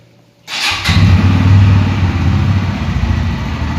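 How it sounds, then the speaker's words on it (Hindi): A Bajaj Pulsar N160 motorcycle in neutral cranks and fires after a brief quiet moment, then settles into a steady, loud, throbbing idle close by. "तो आज हम आपको हमारी गाड़ी की आवाज़ सुनाते हैं।"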